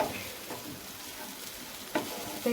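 Kothu chapati fries and is stirred in a pan, giving a low, even sizzle with occasional scraping strokes and a couple of sharper knocks near the end.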